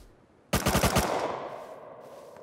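A rapid burst of about six gunshots from a Rust firearm rings out loud and close, then decays into a lingering echo with no talking.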